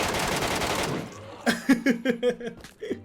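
Gunfire from an air gun in the shooting game PUBG Metro Royale: a dense, rapid burst of shots, then a string of separate sharp reports at close range.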